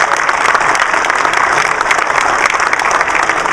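Audience applause for the Coding Illini team at the Intel Parallel Universe Computing Challenge, a steady, dense clapping crowd filling the room without pause.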